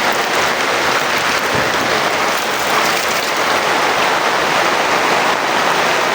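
Heavy rain pours steadily in a flooding backyard, a dense, loud, unbroken hiss of water drumming on surfaces with no pauses throughout.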